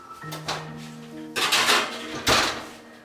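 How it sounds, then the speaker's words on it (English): A metal cookie sheet of homemade buns slides into an oven with loud metallic clanks and ringing scrapes, ending in a final bang. "Alright, inside in the oven it goes."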